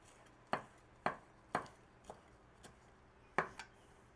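A knife chops basil on a cutting board in six crisp, close strikes, roughly evenly spaced at first, then a pause before a final double chop, faint and without talk.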